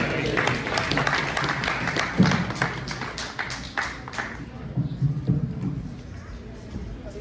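Scattered applause from a Rath Yatra talk audience in Denver, uneven claps rising and thinning over several seconds with some voices in the room.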